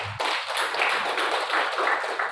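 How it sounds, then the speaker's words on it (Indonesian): An audience clapping at a village head election vision-and-mission presentation, a sudden burst of many hands that stays dense and even, moderately loud and slightly distant. "Ya, tepuk tangan."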